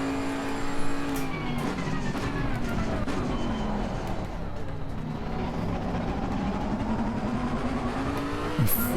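A GT3 race car's engine in Assetto Corsa Competizione at Imola or Suzuka, a loud steady drone that sags and recovers as traction control cuts power out of a corner, then rises sharply.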